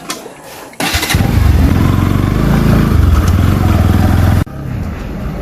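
A Bajaj NS 200 motorcycle roars loud and close, its engine running hard and steady for several seconds before cutting away to a quieter engine drone.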